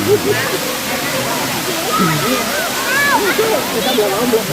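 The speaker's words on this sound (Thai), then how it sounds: "น้ำก็จะไหลออกมาข้างบน" Rushing water from Phu Sang waterfall in Phayao, Thailand, flows steadily underneath someone talking throughout.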